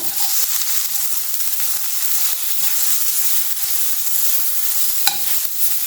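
Mint sizzles in hot olive oil in a pan, a steady bright crackling hiss with a few sharp stirring knocks, close and alone.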